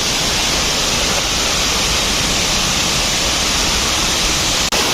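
Balea Falls pours in a loud, unbroken roar of cascading water, a dense hiss filling the scene from nearby.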